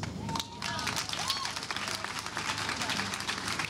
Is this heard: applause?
yes